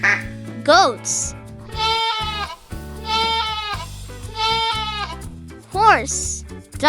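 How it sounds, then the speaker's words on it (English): Goats bleating in three long, quavering cries over a cheerful children's song accompaniment, close and prominent, with brief vocal snippets before and after. "goats"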